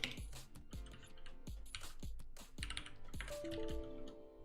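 Typing on a computer keyboard, a steady run of close, crisp key clicks, with quiet faint tones coming in near the end.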